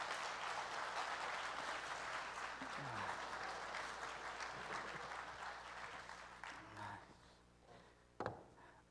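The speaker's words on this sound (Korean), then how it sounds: "박수 주세요" A church congregation breaks into sustained applause during a foot-washing service, the clapping steady and fairly full before thinning out, with a few louder scattered claps near the end.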